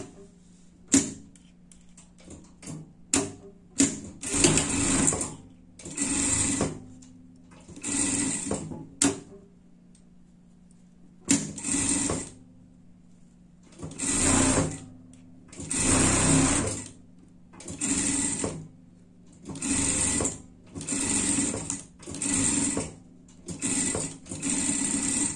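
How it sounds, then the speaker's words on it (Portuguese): A sewing machine stitches around a pet outfit pattern in short bursts, stopping and starting repeatedly, with loud close whirring runs separated by quiet pauses and a few clicks. "Passar uma costura por tudo"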